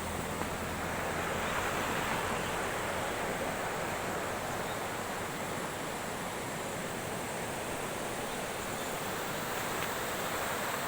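Steady broadband rush of water from Sungai Lubuk Talang, a river in Nagari Supayang, filling the whole stretch at an even, constant level with no pauses and no voices.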